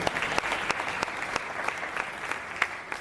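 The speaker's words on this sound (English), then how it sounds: "can we give a big round of applause to our beloved children?" Parents and guests applaud at a kindergarten graduation ceremony, a dense, continuous round of clapping with a few louder individual claps standing out nearby, lasting the whole stretch without talk.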